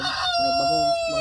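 A rooster crows loudly and close by, one long drawn-out call with a strained, warbling tone.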